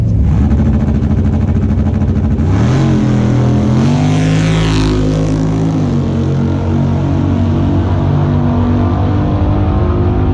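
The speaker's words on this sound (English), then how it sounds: "you can hear the nitrous come back on again. You can hear the change in tone of the car." A loud drag car engine with nitrous roars continuously, its pitch dropping then climbing sharply mid-clip as the nitrous comes back on and the tone shifts, staying close and powerful throughout.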